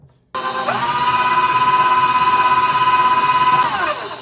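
An electric mixer whirs steadily through Oreo pound cake batter, starting abruptly, holding an even close drone with a faint pulsing for several seconds, then winding down at the end.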